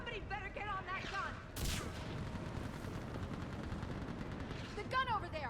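Rapid gunfire from a mounted gun in the video game Mass Effect 3, a sharp burst followed by a sustained noisy barrage, with shouted voices and battle noise over it.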